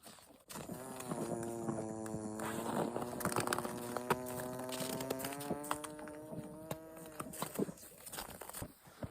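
Cattle on an off-grid farm in bitter cold: a long, close, sustained moo rises and holds over a steady low bed of animal noise, followed by a few scattered thumps and shuffles of the herd moving.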